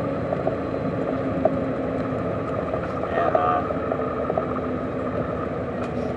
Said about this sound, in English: in this truck I can stay in 10th and just let it pull right back out from 950 revs right now